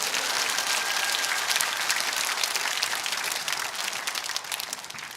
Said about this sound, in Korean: 여러분 그렇게 노리실 것 같으면 큰 박수 한번 해주시기 바랍니다.